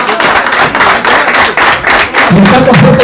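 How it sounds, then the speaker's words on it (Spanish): Loud, close clapping at a 2015 sports awards ceremony for an award winner named Blanca, with distinct hand claps and thumps and a voice speaking over the last part. "Fuerte el aplauso para Blanca."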